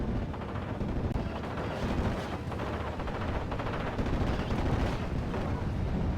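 Tank gunfire in Steel Division, a World War II battle with Panzer IVs, a Stuart and 6-pounder guns, heard as a steady, dense rumble of distant shots and explosions blending into a continuous roar.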